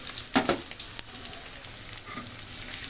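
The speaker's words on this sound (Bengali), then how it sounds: "এখন পেঁয়াজ রসুন ভেজে নেব।" Onion and garlic frying in a pan, a quiet sizzle with a few sharp spatters and brief stirring scrapes early on, no talk.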